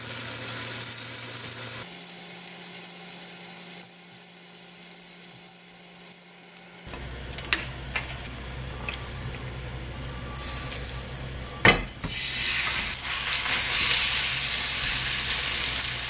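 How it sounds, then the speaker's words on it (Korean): Korean chive pancake batter made from frying mix, salt and chives fries in a pan, starting with a low steady hiss that swells into a loud, bright sizzle toward the end. "이 부추전은요, 후라이팬 길이에 맞춰서 좀 자른 다음에 부쳐야 됩니다"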